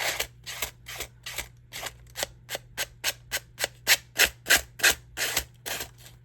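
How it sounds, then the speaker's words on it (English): Rhythmic back-and-forth scraping of a 100-grit sanding block on paper glued to playing cards, about twenty steady strokes that grow slightly louder, with a faint low hum underneath. "So if you take this sanding block, this is 100 grit."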